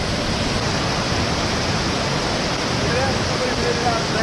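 River water rushes steadily at a backpacking crossing of a river on the Foothills Trail in South Carolina, a dense, even hiss close by that fills the whole stretch without any break.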